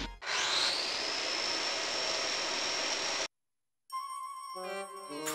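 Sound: chainsaw in video game Disgaea 3

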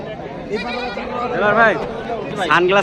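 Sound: goat kid bleating at a livestock market

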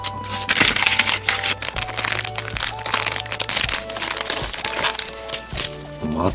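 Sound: cutting open a disposable hand warmer packet with scissors

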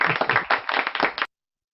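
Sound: clapping for the singer

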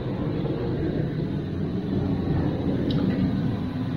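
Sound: airplane flying overhead

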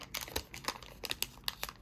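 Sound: unboxing a phone grip, crinkling packaging

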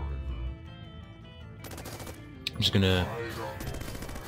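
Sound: sentry turret gunfire in Bionic Dues video game

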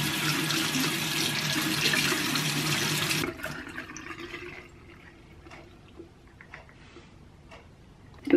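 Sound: menstrual cup being washed with soap under running tap water

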